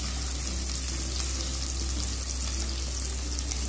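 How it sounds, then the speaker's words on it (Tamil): Onion and garlic sauté in a pan for a murungai keerai paruppu kuzhambu, giving a steady, dense sizzle that holds level from start to finish with no talking. "பூண்டு நல்லா வதங்கி வருது, நல்லா வாசனை வருது."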